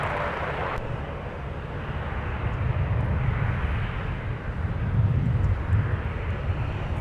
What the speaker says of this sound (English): Sun Country is coming in on the south parallel, and they are arriving from Dallas, Fort Worth.